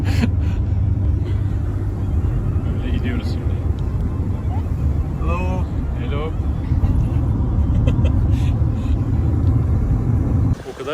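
Three friends and their luggage are packed into a Peugeot car while it drives; a constant low road and engine rumble runs throughout, with voices talking over it.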